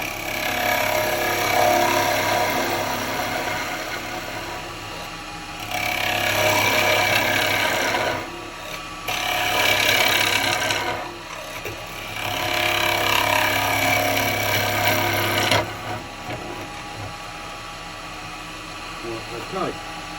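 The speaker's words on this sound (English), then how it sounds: "The bowl gouge." Bowl gouge cutting a yew bowl on a wood lathe, a steady rough scraping hiss over the lathe's hum that comes and goes in several long passes with brief lulls between.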